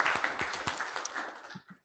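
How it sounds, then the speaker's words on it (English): Lively applause from a small crowd at an IETF lightning talks session, with a scattering of claps dying away toward the end. "Early applause."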